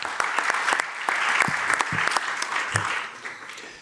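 Steady audience applause fills the hall at an Île-de-France regional council event, many hands clapping in a dense, close patter with a few sharper claps standing out, sustained for about four seconds.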